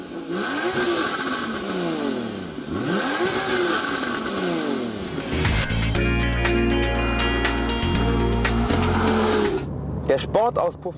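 A Porsche Cayman engine revs and roars loudly with deep, rumbling exhaust through a sport exhaust with switch-operated valves, swelling and falling through several throttle bursts, ending in sharp crackling pops.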